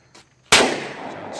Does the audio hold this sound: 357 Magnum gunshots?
yes